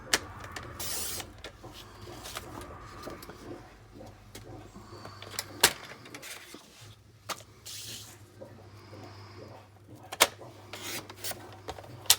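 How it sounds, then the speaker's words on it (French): A paper card motif for a Father's Day card is cut out by hand, giving irregular dry rasping and scraping strokes with a few sharp snips and handling rustles, close and fairly quiet. "je vais découper mon motif, mon fond de carte"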